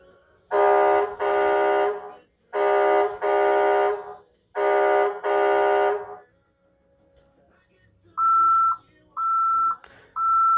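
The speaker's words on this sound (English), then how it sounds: "Backup alarm, obviously." A HESS 2019 toy tow truck's backup alarm beeps loud and close in repeated pulses: long paired electronic tones, then a brief pause before shorter, higher steady beeps, with no talk over it.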